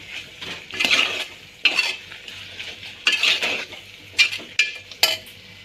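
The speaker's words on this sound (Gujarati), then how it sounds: "આપણે એને સારી રીતે મિક્સ કરીશું" Ivy gourd curry with spices is stirred in a pan, giving a series of distinct spoon scrapes and clinks against the metal, about seven strokes in uneven rhythm, close and clear over a faint sizzle.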